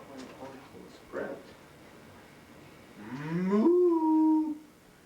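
Cow moo from Clover Cow in a played recording on a comedy show, a single long, loud, pitched moo near the end, with a brief voice sound earlier.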